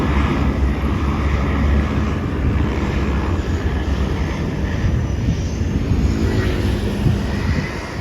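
A seaplane over Hulhumalé island in the Maldives gives a steady, loud engine drone that holds for the whole stretch, mixed with gusty wind rumble on the microphone.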